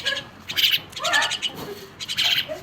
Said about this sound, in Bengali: শালিক পাখিগুলো ছেড়ে দে